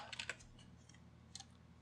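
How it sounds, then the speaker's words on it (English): Quiet keystrokes on a computer keyboard, a short cluster of quick taps followed by a few sparser clicks, close and alone with no talk. "hit return on the keyboard, and type"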